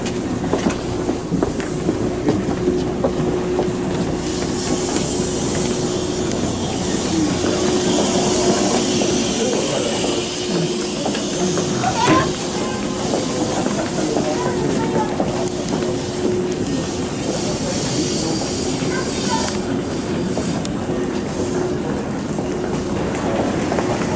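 A Hankyu Railway train pulls into Nishinomiya Kitaguchi station, giving a loud continuous rumble with rhythmic wheel clatter and a steady hum from inside the carriage, a brief squeal near the middle and no talk.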